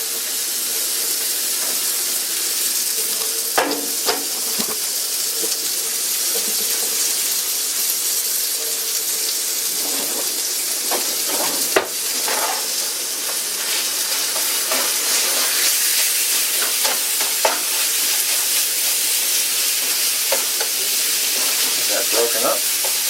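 Ground beef sizzles and hisses steadily in a pan for a cornbread casserole, with occasional scraping knocks as it is stirred and broken up; no one speaks.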